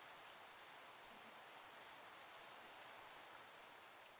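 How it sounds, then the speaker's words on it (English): Steady rain pours in a Minecraft modpack world, a dense, even hiss with no break across the whole stretch and no other sounds over it. "it's raining right now, I believe."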